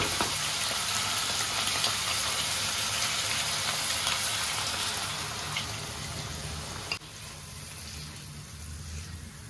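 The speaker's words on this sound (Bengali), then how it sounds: "এবারে আমি ওই মশলার জলটা দিয়ে দেবো।" Spiced water poured into onion and tomato masala frying in a pan, giving a steady broadband sizzle that softens partway through and then continues more quietly, with no talking.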